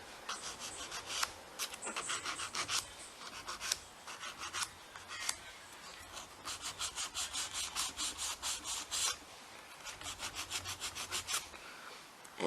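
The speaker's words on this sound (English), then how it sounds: "you're going to file this side again, just until you get that perfect stiletto shape that you want" A nail file shapes a stiletto-shaped nail with steady back-and-forth rasping strokes, quick and rhythmic, close up and fairly quiet, with no voices.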